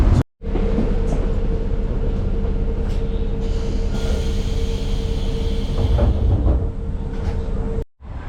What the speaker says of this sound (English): This is train number 3 today.